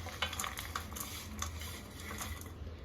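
Jaggery, 800 grams of it, going into a kilo of amla in a wok for amla murabba, with a steady run of stirring, scraping and soft sizzling clatter close by.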